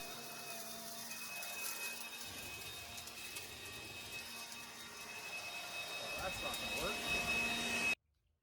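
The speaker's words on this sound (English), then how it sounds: "I have used this blower with the Whately battery constantly" A DeWalt cordless leaf blower running on a cheaper knockoff battery gives a steady close whooshing airflow with a whining tone, rising slightly toward the end before cutting off abruptly.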